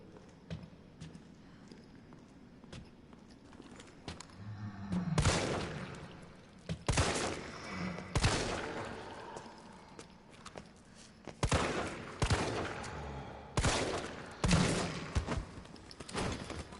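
Handgun shots are fired at zombies in Resident Evil 3, about seven or eight loud, sharp reports in irregular pairs and singles after a quiet opening, separated by brief gaps of low background sound.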